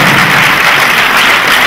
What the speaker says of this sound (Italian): Facciamo un grosso applauso a Ferdinando.